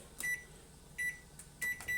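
A kitchen timer beeps as it is set while pasta cooks on a home stove. Four short, clear, evenly pitched beeps come in quick bursts with short gaps, close and alone.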